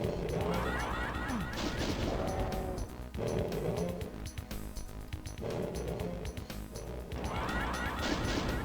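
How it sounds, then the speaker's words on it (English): Doom arachnotron plasma fire striking a Mancubus in a game map: dense layered crashes and impact thuds over continuous game noise and music, loud and busy throughout with a few brief dips. "You want this arachnotron to fire and hit a Mancubus."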